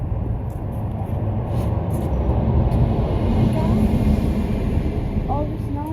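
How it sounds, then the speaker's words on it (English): Road traffic noise from passing cars and buses, a continuous low rumble with engine drone swelling and easing, heard over a fairly close ongoing background throughout. "All this noise is cars and buses."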